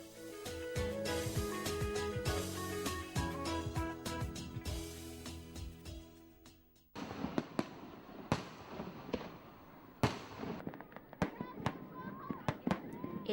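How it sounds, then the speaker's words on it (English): Fireworks crackle and bang repeatedly at a distance over the Lancang River at night, with sharp pops and booms over a busy background of cheering and music-like tones. "With fireworks lighting up the sky in a zillion different colors"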